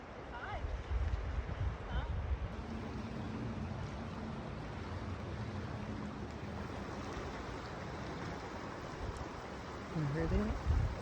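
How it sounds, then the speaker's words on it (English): Strong wind roars outdoors near a large waterfall at Great Falls, a steady loud rushing wash with gusty swells that keeps up the whole time, with no voices over it. "It's got loud over there. It's the wind."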